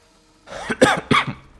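A short fit of coughing in the video game The Binding of Isaac: Repentance+: three harsh, raspy coughs in quick succession, the last two sharper and louder.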